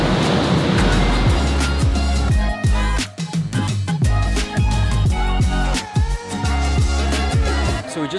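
BMW G80 M3 engine fitted with Mishimoto air intakes, run loud and steady on a dyno with fans going, with a rhythmic pulsing roar and a brief dip mid-run before it climbs again.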